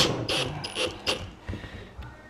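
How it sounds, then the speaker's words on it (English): A 1/4 inch driver drives screws into a scrap-wood grinder stand, heard as quiet bursts of ratcheting clicks in an uneven rhythm. "So we're going to screw this thing together."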